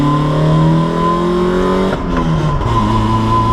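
A Toyota AE86 engine revs up in first gear on an uphill pull to around 6,000 rpm, a loud, close, rising drone that dips at a brief shift-like break and then holds steady again.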